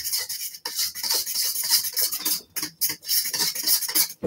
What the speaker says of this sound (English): So I'm just gonna whisk this around